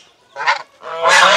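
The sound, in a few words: geese honking by a village road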